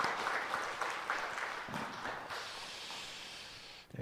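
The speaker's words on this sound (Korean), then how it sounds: "박수로 환영하겠습니다." A church congregation applauds to welcome a newcomer during a Sunday service, a sustained round of clapping from many people filling the room, fading slightly toward the end.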